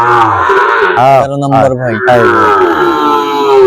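A Sahiwal bull calf moos in long, loud, drawn-out lows at close range, one call running into the next, while someone talks over it.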